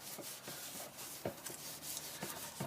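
A cloth wipes shellac back and forth over power-carved wooden wall art, soft rhythmic rubbing strokes close by and faint, with no speech.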